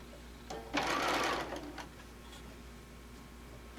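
A sewing machine stitches fabric around a curve in a brief, quiet burst of rapid mechanical clatter that stops after about a second, followed by faint ticks in a still room.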